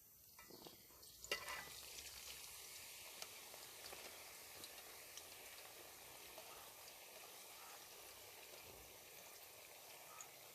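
Sliced onions fry in hot oil in a pan, a steady soft sizzle that stays faint and continuous after an initial crackle as they hit the oil.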